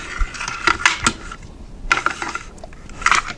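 Metal parts of a BESAL light machine gun clicking and scraping as the bolt and gas assembly is fitted, a few sharp close clacks in two bursts separated by a quiet pause.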